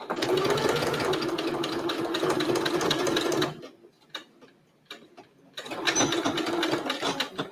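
A domestic sewing machine stitches Italian leather for a bag, running fast and rhythmic, pausing about midway for a couple of seconds of near quiet, then starting up again loud and close.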